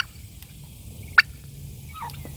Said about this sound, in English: conveniently I have some turkeys that have joined me